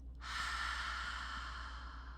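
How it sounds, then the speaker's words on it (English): A long breathy "haa" exhale pushed out through the mouth during a calming qigong breathing exercise, close and soft, starting sharply and fading over about two seconds. "So it's like the sound H-A-A-A. Inhaling through the nose and exhale through the mouth."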